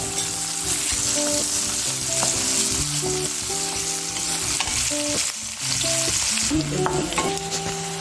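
Onions fry in hot oil in a pan for gobi manchurian, a loud, close, continuous sizzle with occasional stirring and scraping strokes, no voices present.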